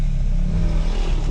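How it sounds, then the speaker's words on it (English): A motorcycle on a dirt trail roars close by, its engine loud and revving with a rough, clattering mid-pitched drone through the short moment it passes. "I'm gonna let this motorcyclist go by."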